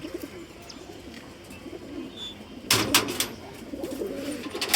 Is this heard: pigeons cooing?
yes